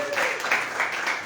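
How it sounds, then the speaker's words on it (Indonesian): Brief applause from a congregation at an outdoor church service with marginalized people and street children, a short burst of clapping with voices mixed in. "berikan tepuk tangan buat dia"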